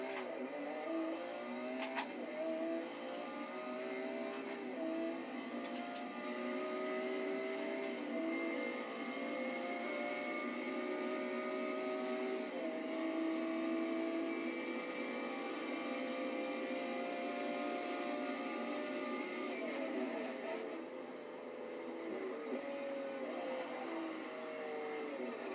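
Engine drone of a car driven with a manual clutch in a video game, a steady continuous hum with rising and falling pitch through gear changes, moderately loud and alone.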